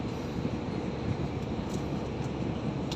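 An airplane takes off near an airport by the sea, a steady broad roar of jet engine noise sustained at moderate distance.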